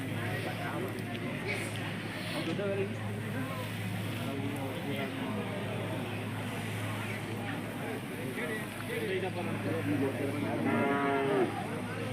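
Cattle, including Hallikar bullocks, low a few times amid steady outdoor noise at the Jodugatte cattle market in India, with people talking nearby.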